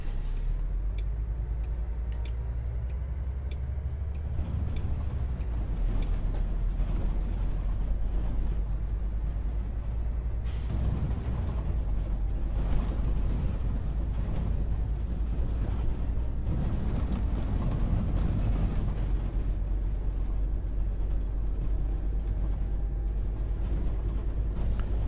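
A Solaris city bus in the OMSI 2 driving simulator pulls away and cruises with a steady, low engine drone and rumble. No voices are heard over it.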